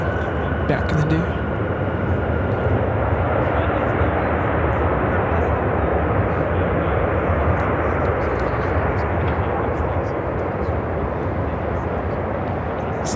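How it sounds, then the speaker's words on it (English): United Airlines Boeing 757-300 arriving from Los Angeles lands at Chicago O'Hare, a steady broadband jet roar holding loud and continuous throughout. "This is United Airlines 2226 coming in from Los Angeles on the 757-300"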